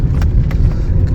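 A car is driven through mud on a badly damaged road after morning rain, its engine giving a loud, close, low rumble with a few scattered splashes and knocks on top.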